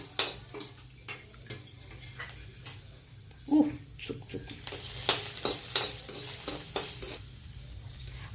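Garlic and ginger roasting in a little oil in a pan for a Marathi kat amti, with soft sizzling, scattered clinks and scrapes of a spoon against the pan, and a brief hissing surge midway.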